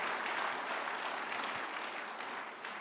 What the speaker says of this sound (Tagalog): Ngayon ang pumalakpak mga tao rito.